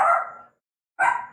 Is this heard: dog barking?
yes